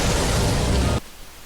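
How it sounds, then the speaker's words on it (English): The Nameless King's explosion attack in Dark Souls III bursts as a dense, loud roar of noise for about a second, then cuts off abruptly into a quiet tail. "safety roll just in case, because it is kind of an explosion"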